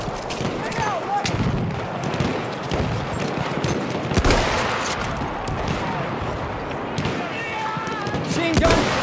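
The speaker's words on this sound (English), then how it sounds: "Machine gun! Watch it," Battlefield 1 gunfire in a chaotic conquest battle on the Argonne map, with dense bursts of shots, heavy impacts and a sharp blast near the middle, layered under shouting voices throughout.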